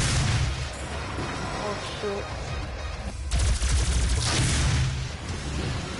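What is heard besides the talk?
gun shooting in the video game Doom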